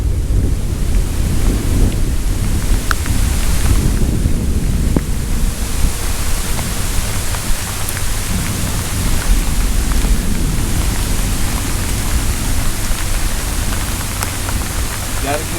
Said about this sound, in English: The rain just came out of nowhere.